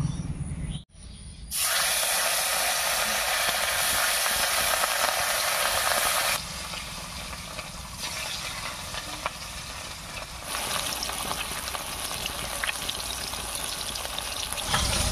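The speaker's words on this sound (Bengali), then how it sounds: "তেল গরম হয়ে গেছে, এবারে মাছগুলো দেব।" Rui fish frying in hot oil in a wok, a loud, steady sizzle that erupts after a brief quiet dip and keeps crackling and hissing for the rest of the clip, shifting slightly in intensity.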